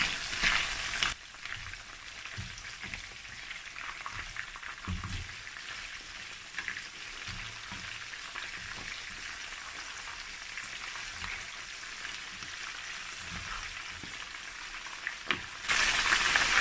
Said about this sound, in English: I'm going to be frying the meat until golden brown